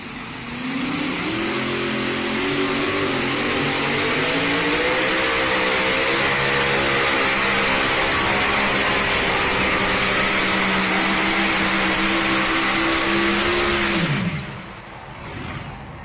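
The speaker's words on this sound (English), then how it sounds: "They will show no mercy on the power plants on the Sweet Pain tractor." The Sweet Pain pulling tractor roars at full power during a tractor pull run, a loud sustained engine howl that climbs slightly and holds for about fourteen seconds before abruptly cutting off, with no voices over it.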